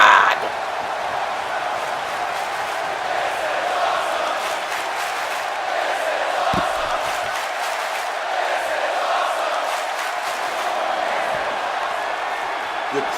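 A video game arena crowd in WWE 2K18 during a WrestleMania match roars and chants steadily throughout, a dense continuous wash of cheering with brief louder bursts.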